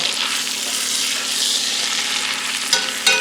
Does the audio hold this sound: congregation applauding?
no